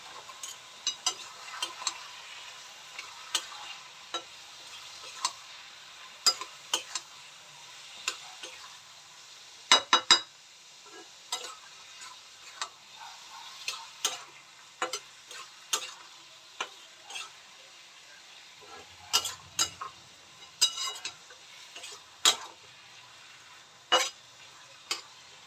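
Fish-head masala being sautéed in a pan, a soft frying hiss under intermittent sharp scrapes and taps of the spoon against the pan, spaced irregularly and heard close, without speech.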